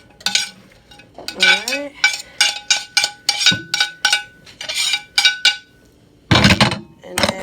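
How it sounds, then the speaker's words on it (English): Metal utensils scraping and clinking against a bowl as crab salad ingredients are scooped in, a quick series of sharp taps and scrapes with short pauses, one brief spoken word among them. "I've got my ingredients scooped into the bowl for the cold crab salad"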